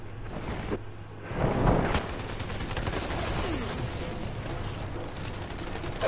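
Dense bursts of gunfire with unlimited ammo in Army of Two: The Devil's Cartel, a sustained rattling barrage with booming impacts that builds after a second and keeps going.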